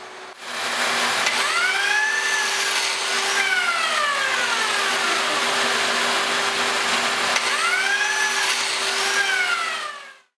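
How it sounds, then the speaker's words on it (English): A biscuit joiner cutting slots into lumber for a wine box, a loud continuous high-pitched motor whine that rises and falls in pitch as the blade plunges into the wood, near and steady for about ten seconds. "Once the sections were cleaned up, I cut slots for the biscuits."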